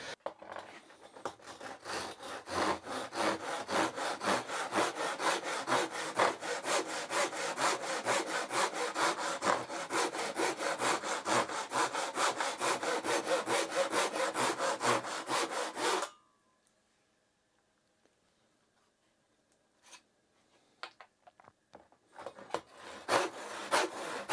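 A Japanese hand saw rasps through wood along a cutting guide in rapid, even back-and-forth strokes for about sixteen seconds, then stops; faint scraping and handling noises follow.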